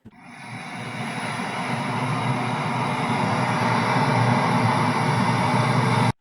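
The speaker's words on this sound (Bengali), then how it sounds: "এটা বৃষ্টি পড়ার আওয়াজ" Steady rain falling, played as a sound-quiz clue on a Bengali show, a dense continuous hiss and patter that swells in over the first second and holds evenly before cutting off abruptly.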